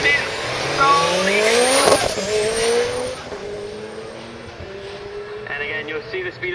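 Van engine revving and tyres squealing as it launches off the line in a drag race at Knockhill, with rising engine tones and a skid under a commentator's voice.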